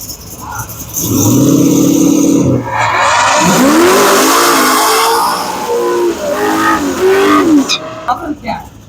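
A race car making a high-speed pass at a drag-and-drive event builds from a low rumble into a loud engine wail with sweeping revs, then cuts off sharply at the end.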